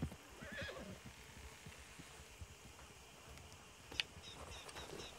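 A horse in a Western open-world video game gives a brief whinny near the start, with soft hoof clip-clops and faint ambient wind and birds underneath, all fairly quiet.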